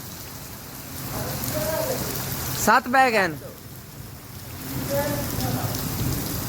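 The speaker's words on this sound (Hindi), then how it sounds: "बहुत शदीद तेज़ बारिश" Very heavy rain pours in a dense, steady hiss, with someone speaking over it in the middle.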